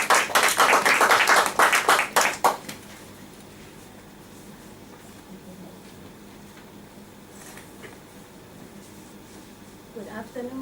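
A Toastmasters club audience claps in welcome for a speaker, a loud burst of applause for about two and a half seconds that then fades to room quiet.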